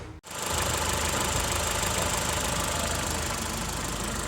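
A Ford car engine, just fitted with a new timing belt, starts after a brief pause and then runs steadily with an even, loud mechanical clatter close by.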